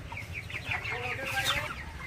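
Broiler chickens in a poultry farm shed, a close cluster of overlapping clucks and throaty calls in an irregular run.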